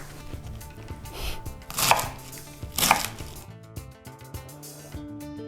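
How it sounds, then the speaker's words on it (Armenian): Knife chopping through savoy cabbage on a board, with fairly steady cuts that grow louder in two strong strokes midway, over faint background music. "Կտրատում եմ կաղամբը։"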